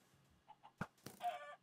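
Quiet clucks from a chicken in the video game Minecraft come as a few brief calls, with a sharp hit sound among them and a short burst of squawking at the end. No one speaks.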